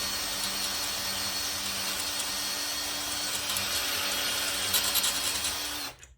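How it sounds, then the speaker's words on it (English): A power drill whines loudly and continuously, drilling out metal pop rivets on a caravan door up close before the motor stops abruptly at the end. "Forward with the drill."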